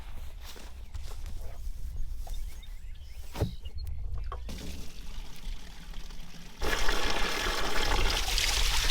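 Clattering and footsteps at first, then water pours and splashes steadily into a container for cows, growing louder and fuller toward the end.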